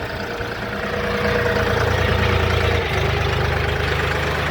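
A Shifeng 244 tractor engine idles nearby with a steady low rumble and rhythmic chug, revving slightly in the middle before settling back.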